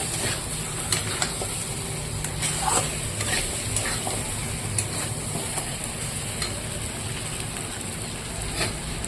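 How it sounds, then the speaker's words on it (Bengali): Fried mutton sizzles steadily in a pan as water is poured in, giving a constant hiss and crackle with scattered sharper pops throughout, fairly quiet and close, with no talking. "এবার মাংসতে জল দিয়ে দেবো"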